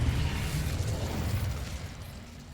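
An Incendio fire spell cast in Hogwarts Legacy, a low rumbling burst of flame that swells at once and then slowly fades over a couple of seconds.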